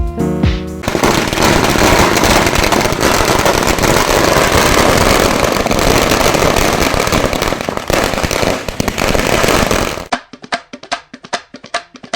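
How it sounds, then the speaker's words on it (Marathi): A long string of firecrackers rips through a political party's victory celebration in Gadhinglaj, a loud dense continuous crackle lasting about ten seconds, then thinning to a few scattered sharp bangs. "फटाक्यांच्या आतिषबाजीमध्ये आपला जल्लोष साजरा केला आहे"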